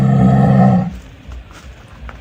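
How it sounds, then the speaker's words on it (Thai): A tiger's deep, loud roar rumbles for most of a second, then cuts off, leaving faint low background noise. "ยินเสียงครับเสียงเสือฮ้อง"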